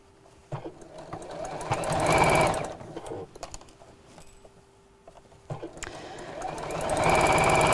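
Sewing machine stitching fabric for a Christmas apron, two stretches of rapid, close, rhythmic needle chatter that speed up and pause between, with a quieter gap in the middle.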